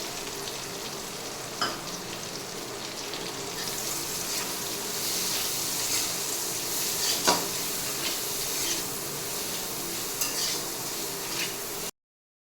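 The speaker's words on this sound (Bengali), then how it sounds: "তেলের মধ্যেই দিয়ে দিচ্ছি একটু কালো জিরে, এবার কেটে রাখা পেঁয়াজটা দিয়ে দিচ্ছি।" Chopped onion sizzling in hot oil with black cumin in a pan, a steady loud frying hiss with occasional stirring scrapes and clinks, close up, no talking.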